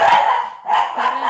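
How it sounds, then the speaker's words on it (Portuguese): Two loud, close dog barks, each long and rough, separated by a brief pause. "Até os cachorros estão estressados na quarentena."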